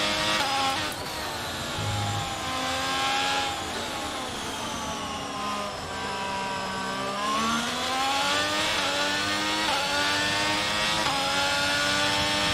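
An F1 race car engine in the video game F1 22 at Zandvoort, revving loud and steady with rising and falling pitch as the car accelerates and shifts, heard alone without talk.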